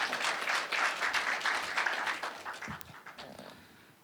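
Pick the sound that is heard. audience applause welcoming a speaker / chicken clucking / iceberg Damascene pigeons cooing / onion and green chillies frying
audience applause welcoming a speaker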